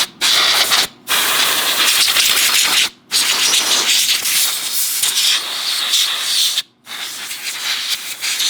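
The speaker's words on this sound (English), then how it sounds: "Spray all that out." Cleaner sprays in long hissing bursts into a Colt 1911 Gold Cup pistol, four or five close, loud blasts separated by brief pauses.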